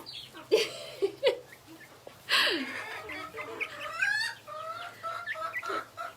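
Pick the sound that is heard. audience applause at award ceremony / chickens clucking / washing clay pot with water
chickens clucking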